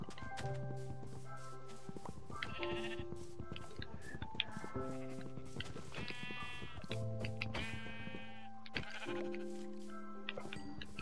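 Repeated Minecraft sheep bleats sound one after another over a busy backdrop of synthetic game noises and soft thumps, loud and close throughout.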